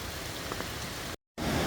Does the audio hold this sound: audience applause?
no